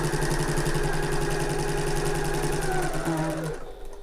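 A sewing machine back stitching a seam on an open-top tote bag runs in a close, steady mechanical whir for several seconds, then stops abruptly near the end.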